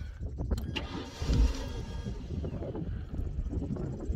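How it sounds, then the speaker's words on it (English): A 20-foot Sea Swirl boat with a Ford 5.0 302 V8 cranks and fires up, its low engine rumble loud and close, rising as it catches and then settling into a steady running drone. "Turn the key."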